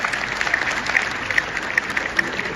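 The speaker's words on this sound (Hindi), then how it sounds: "तालियां बजाते रहो" Audience applause fills a packed pavilion at a Hindi comedy poetry gathering at Jairam Vidyapeeth, a steady wash of clapping with scattered sharper claps throughout, fairly close and continuous.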